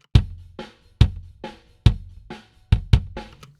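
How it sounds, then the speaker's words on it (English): Dry kick drum hits, about eight in uneven rhythm, each with a punchy low thump and a short decaying tail, heard alone. "Here's the sound of a kick drum I recorded with no plugins on it."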